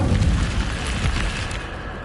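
A fire spell blast in Hogwarts Legacy, a heavy booming burst at the start that rumbles on briefly before fading, loud and close with no talk.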